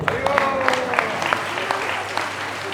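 Clapping rises in a steady patter from an audience at a special devotional discourse held at Mahaprabhu's house in honour of Mataji, moderately loud and continuous, with speech running over it.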